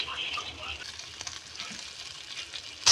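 Garlic and onion sizzle and crackle steadily in hot oil for a Filipino pesang dalag dish, a constant close frying hiss with a brief louder clatter at the very end.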